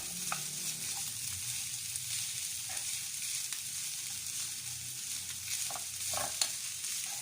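A chicken mixture fries in a pan with a steady, close sizzle and crackle, and scattered pops and stirring scrapes over it, with no talking.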